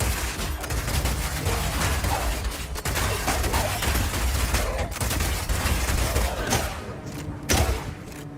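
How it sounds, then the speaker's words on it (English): Rapid Shot fire in Path of Exile 2: a dense, continuous stream of quick shots and thuds that runs for several seconds, loud and close, mixed with game effects and with no voices. "Rapid shot is great for closing on enemies because you can shoot while running."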